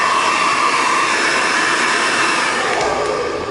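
A heat gun blows steadily on a Sliplo scrape guard, giving a loud, even roar of hot air that barely changes for a few seconds and has no talk over it.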